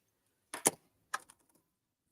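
Two quick snips of scissors close by trimming ribbon, each a short crisp cut followed by a few faint clicks, in otherwise silent surroundings.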